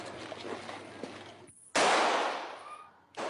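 Gunfire exchanged during a French police anti-crime brigade response to an armed attack: a sustained rumbling burst of shots, then a pause of near silence, then a loud, close blast that fades before another sharp report.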